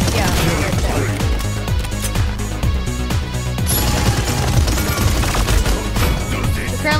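Rapid assault rifle fire in a video game, steady rattling bursts of closely spaced shots running throughout under a busy backdrop of music and game effects, loud and close.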